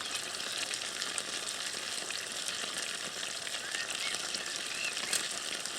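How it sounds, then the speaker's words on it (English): Gravy bubbling toward the boil in a RidgeMonkey Connect Combi pan on a bankside stove, a steady close hiss and fizz with faint crackles throughout and no talking. "Gravy's just coming to the boil."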